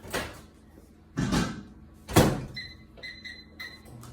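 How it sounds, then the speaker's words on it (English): A microwave door thuds shut a few times with dull knocks, then a run of short, high electronic beeps sounds close by. "I'm going to stick this in the microwave,"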